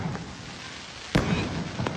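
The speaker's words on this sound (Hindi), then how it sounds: "पूरे बरसाने राधा रानी मंदिर के चारों ओर आतिशबाजी का माहौल है" Fireworks crackle around Radha Rani temple in Barsana: a steady fizzing background broken by one sharp, loud burst near the middle and smaller pops at the start and end.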